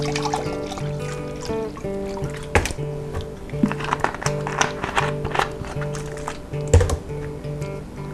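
Lemon juice pouring into a blender while making a mango lemon shake, a close trickling, splashing stream with soft taps and clinks over a steady tonal hum.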